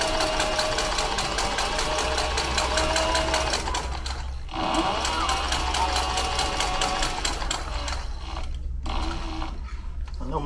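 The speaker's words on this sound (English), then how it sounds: "Try to always stop my machine with the needle down" A sewing machine stitches a Lewis and Clark style backpack in rapid, even bursts of needle strokes, pausing briefly twice before running on, close and steady.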